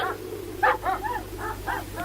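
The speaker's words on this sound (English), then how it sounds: "Police dogs?" Police dogs bark in several quick, sharp yaps, moderately near, over a low steady hum in the background.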